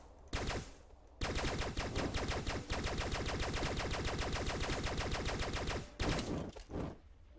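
Rapid automatic gunfire in the video game Starbound, long dense bursts of fast repeated shots with short gaps between them, loud and close.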